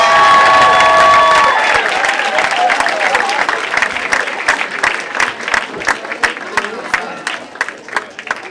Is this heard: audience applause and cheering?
yes